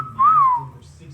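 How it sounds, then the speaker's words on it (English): A young African grey parrot gives a single clear, rising-then-falling whistle, close and fairly loud, over a low background hum. "Let me hear you whistle."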